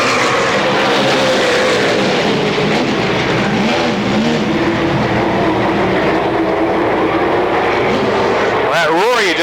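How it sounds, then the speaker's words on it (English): The Ken Schrader show car roars around the Motordrome Speedway during a 1994 race, a loud, continuous engine drone with rising and falling pitch sweeps near the end. "That roar you just heard was the Ken Schrader show car."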